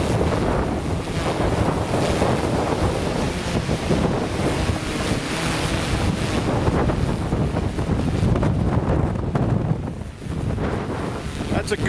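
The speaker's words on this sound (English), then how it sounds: "That's a gust right there." Strong wind, gusting over 40, roars and buffets the microphone in a constant, heavy rush, swelling in gusts with a brief dip near the end.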